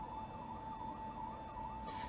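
A wailing emergency vehicle siren sounds from outside, a steady rising-and-falling tone holding throughout at moderate level with no other sound over it.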